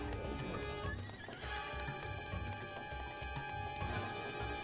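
A horse neighs loudly over rhythmic hoofbeats in Zelda: Breath of the Wild, with layered game music and effects filling the background.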